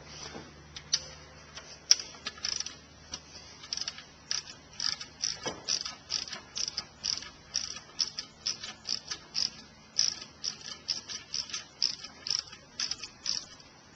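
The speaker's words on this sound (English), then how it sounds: "Remove the 3 12mm bolts that hold the alternator on." A ratchet wrench removes 12mm alternator bolts on a 2004 Honda Accord EX, with a rapid, steady train of close, crisp clicking strokes under a faint background hum.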